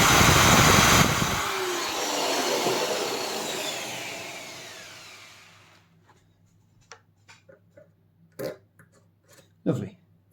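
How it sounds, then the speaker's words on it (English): Power tool countersinking screw holes for M4 countersunk polypropylene screws during an upgrade to a Rega Planar 3 turntable: a loud, steady whirring drill with rough cutting noise for about five seconds, fading out, then a few sharp clicks and knocks. "Now I'm using countersunk polypropylene screws, so I'm going to countersink these screw holes."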